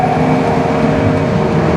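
Steady, loud roar of fast car engines passing close by on the Nordschleife race track, a continuous rumbling wash of motor noise with no pauses.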